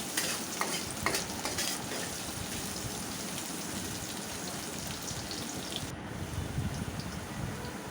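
Chopped onion fries in oil seasoned with black cumin, a dense, crackling sizzle like rain on a surface, with scattered stirring clicks throughout and a brief dip near the end.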